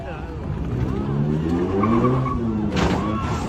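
Cars with tires skidding and engines revving loudly, ending in a sudden short impact burst as one car crashes into another, with excited voices over the top.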